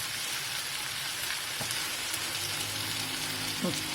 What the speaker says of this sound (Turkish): Alt üst ediyoruz. Her tarafı eşit şekilde kızarsın diye.